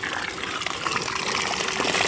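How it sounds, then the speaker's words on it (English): Water gushes steadily from a sump pump discharge beside a house, a continuous close splashing rush with no talk. "on the side of my house, I have got water coming out of the basement"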